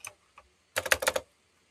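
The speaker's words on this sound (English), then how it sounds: "You can actually start typing," Keys on a computer keyboard clatter in a short burst of quick taps after a couple of isolated clicks, close and clear with no talking.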